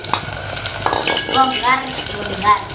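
Onion drops into a clay pot, giving a soft sizzle with clinking and scraping from stirring, while a voice speaks briefly over it.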